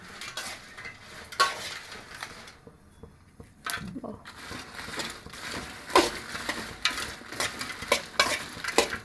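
Mint leaves frying in a pan for mint chutney, with a soft background sizzle broken by stirring scrapes and metallic clinks of a utensil against the pan, close and moderately quiet.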